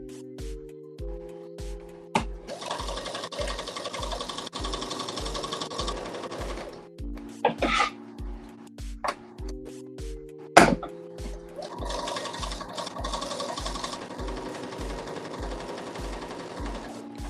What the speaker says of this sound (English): I'm going to flip it over and just go right back down it with a zigzag.